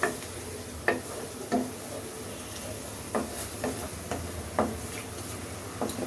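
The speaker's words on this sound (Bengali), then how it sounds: "আমি এখন এটাকে ভালো করে আবার একটু ভুনা করে নিই।" Spice paste with a spoonful of tomato paste frying in a pan for potato curry (aloo dum), a steady low sizzle broken by several sharp scraping stirs of the spoon at irregular intervals, close and moderately quiet.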